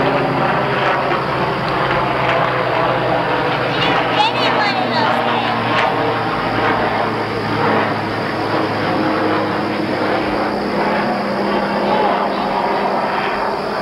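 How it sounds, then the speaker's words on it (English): A helicopter flies overhead outdoors during a carrot harvest, its steady loud rotor and engine drone filling the whole stretch with no letup, while people talk beneath it. "Do you hear that helicopter?"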